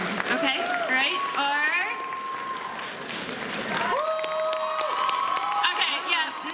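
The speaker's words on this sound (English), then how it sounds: "you need to clap for your favorite" An audience claps and cheers for a favorite contestant during a masquerade party game, mixed with excited shouts and overlapping voices, loud and close.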